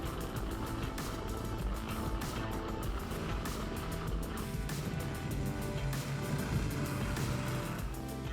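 A Tofalar Tundra motor sled engine runs steadily at speed on snow, a loud continuous roar that stays even throughout with no voices.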